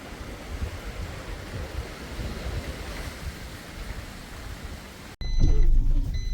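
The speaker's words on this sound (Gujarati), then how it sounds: "આ વરસાદ બંધ થવાનું નામ નથી લેતો" Heavy, unrelenting rain pours over flooded farm fields as a steady, dense roar that fills the air, then cuts off abruptly into a louder, rougher rushing noise near the end.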